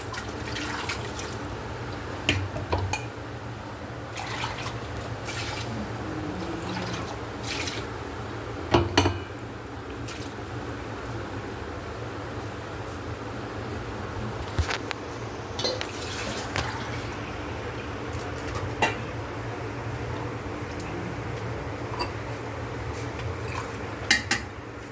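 Water poured from a rinsed mixer jar, used earlier for grinding ginger and garlic, into a cooking pot for chicken biryani, a continuous soft liquid flow with occasional metallic clinks and drips, fairly quiet and without talk.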